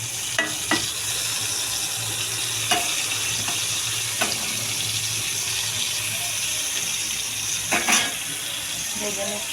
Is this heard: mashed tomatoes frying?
yes